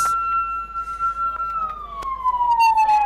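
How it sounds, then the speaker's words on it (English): An arriving ambulance at an emergency response training scene, its siren wailing loud and steady with a slowly falling tone, close by, with faint voices underneath. "The ambulance is here in record time"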